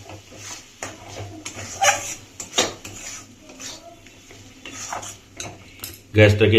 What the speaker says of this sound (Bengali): মিশ্রণটাকে আমরা আবার ভাজতে শুরু করলাম